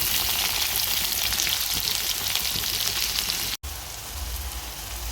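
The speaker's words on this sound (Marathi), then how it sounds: "त्यानंतर छोटा छोटा कट केलेला कांदा घालूयात" Chopped onion hits hot oil with added grated garlic, giving a loud, steady sizzle and crackle that runs continuously, broken only by a brief instant of silence near the end before resuming.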